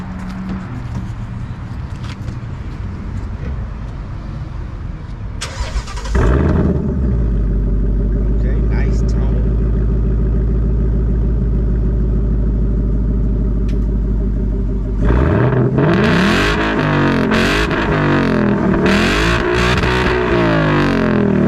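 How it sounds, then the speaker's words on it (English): A 2020 Ford Mustang Bullitt V8 fitted with an H-pipe exhaust starts up with a sudden loud roar, settles into a deep steady idle, then revs up and down in several rising and falling blips, heard up close and without talk. "Bullitt just put a hpipe on his car. So now we're gonna get to hear what it sound like on the Bullitt."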